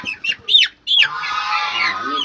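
A listless, sick chicken with a snoring respiratory rattle gives a few short, close clucks, then a continuous raspy, wheezing rattle that runs to the end.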